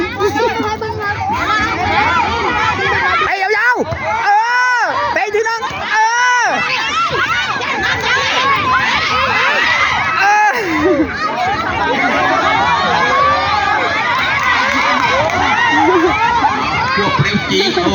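A crowd of spectators and children cheers and chatters at a kindergarten football final between school groups, loud and continuous, with voices calling out over the noisy babble.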